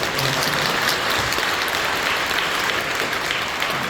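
Church congregation applauding after a praise performance, a thick, continuous roar of clapping that holds at an even, loud level throughout.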